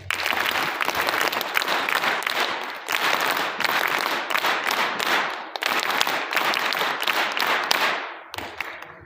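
At a government postgraduate college, an audience gives a performer a long round of applause, loud dense clapping in surges with brief dips, ending abruptly after about eight seconds.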